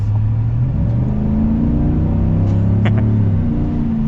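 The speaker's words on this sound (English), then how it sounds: "after this car goes, we should be able to get an acceleration here" A Chevy Silverado pickup truck, Trail Boss or ZR2, accelerates with a steady low engine drone that climbs slightly in pitch, heard close from inside the cab.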